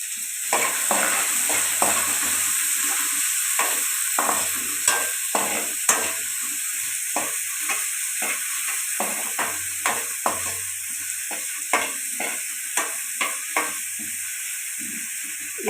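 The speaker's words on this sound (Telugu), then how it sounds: "ఇప్పుడు నేను ఆనియన్స్ వేస్తున్నాను. అలాగే పచ్చిమిర్చి కూడా వేస్తున్నాను." Onions and green chillies fry in a pan for a broad bean and tomato curry: a constant bright sizzle with regular spatula scrapes and taps keeping a steady stirring rhythm, close up and without voices.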